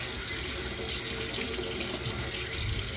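Kitchen tap running water while a utensil is washed during mac and cheese cooking, a steady, loud rushing splash that continues unbroken and close for the whole stretch.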